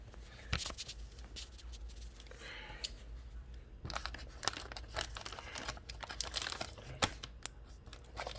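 A plastic bag crinkles and rustles in irregular bursts, with sharper crackles, while an unboxing is handled close to the microphone, with no talking.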